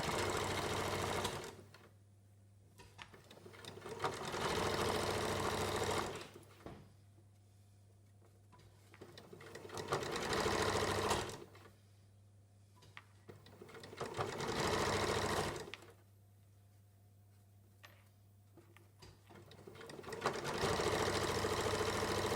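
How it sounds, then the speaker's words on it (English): A sewing machine stitches a small curved facing with a 5mm seam in bursts of rapid mechanical whirring, several runs of a few seconds each separated by quiet pauses. "I'm going to sew this little facing on with a 5mm seam because it's on a curve."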